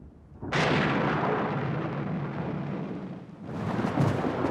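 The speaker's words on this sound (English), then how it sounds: "Just listen to that thunder." A sharp clap of thunder bursts in and rolls on as a long, heavy rumble, with a second crash near the end.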